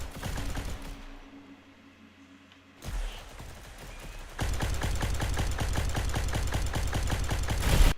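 Gunfire in the Roblox battle royale game Tropical Royale: a burst of shots, a quieter pause, then a long, steady rapid-fire stream of crisp repeated shots, loud and close, with no talking.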